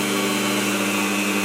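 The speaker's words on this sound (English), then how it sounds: "So, turning my drill off" A power drill runs steadily while boring a hole through a piece of sea glass during jewellery making, a continuous, fairly loud whirring hum with no talk over it.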